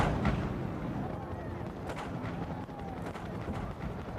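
Cannons fired from a replica pirate ship sailing up the Hillsborough River into downtown Tampa during the Gasparilla celebration, heard as dull booms amid a loud, continuous crowd roar.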